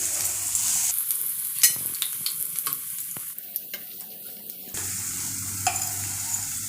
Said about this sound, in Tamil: நம்ம இப்போ ப்ரெட்டை போட்டு கம்மி தீயில் வச்சு ஃப்ரை பண்ணி எடுத்துக்கலாம்